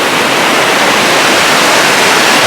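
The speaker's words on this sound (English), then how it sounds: "That waterfall flows," Waterfall on Whatcom Creek roaring as a loud, dense, unbroken rush of water heard up close.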